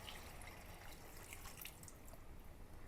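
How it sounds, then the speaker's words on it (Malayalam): Second-press coconut milk pours into a cooking pot in a steady liquid trickle with soft dripping, continuous and fairly quiet for the whole stretch, no voices. "ഇനി ഇതിലേക്ക് തേങ്ങയുടെ 2-ാം പാലാണ് ഒഴിച്ച് കൊടുക്കാം"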